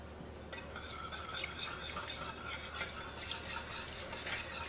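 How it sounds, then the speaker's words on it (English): Melted butter and honey stirred together in a bowl, a steady close scraping swirl with light metallic clinks of the spoon against the sides, running continuously without talk. "I have a stick of butter that I've melted on the stove, and 3/4 cup of honey. And we are going to mix them together."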